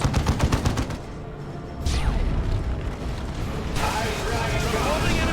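Stormtroopers fire guns and lob grenades in the Dawn of War 2 strategy game, rapid rattling bursts of gunfire and booming blasts piling up in a dense, loud battle din with talk over it.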